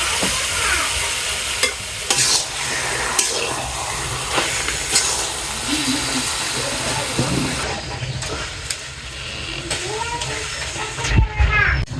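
Boiled taro stirred in a hot pan, with scraping, clattering spatula strokes over a low sizzle, and a person talking in a home kitchen.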